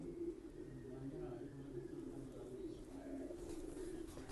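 English pigeons coo softly in a low, throaty murmur while someone talks over them.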